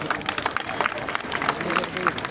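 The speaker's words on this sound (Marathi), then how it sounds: "आपण सगळ्यांनी टाळ्या वाजवून" An audience claps at the opening ceremony of the Namo Chashak 2024 sports festival in Navi Mumbai, a steady ripple of many hands applauding together with crowd murmur and voices mixed in.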